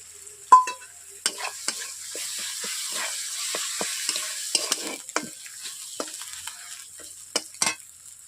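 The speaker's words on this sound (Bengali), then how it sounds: "পেঁয়াজ টমেটো ভাজা হয়ে গেছে, তার জন্য আদা রসুনের বাটা একসঙ্গেই দিয়ে দিচ্ছি।" Ginger-garlic paste hitting onion and tomato frying in a pan gives a soft steady sizzle broken by sharp crackles and pops, near and fairly quiet.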